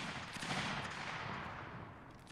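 Rifle fire from a line of reenactors advancing at an NEC event, a dense, continuous crackle of overlapping shots sustained at steady loudness throughout.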